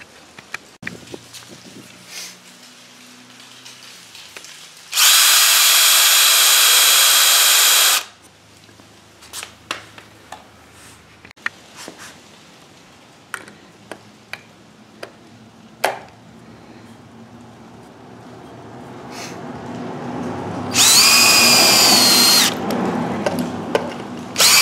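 A power drill countersinks and drives screws into a wooden farmhouse bench. Two long loud bursts of drilling are separated by quieter clatter and handling knocks of wood, and there is no talk.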